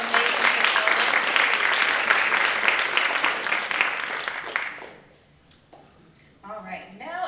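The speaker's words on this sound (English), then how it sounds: "please give her another round of applause for her amazing performance" Loud audience applause at a university scholarship pageant fills the hall for about five seconds, then fades out abruptly, and a person starts speaking near the end.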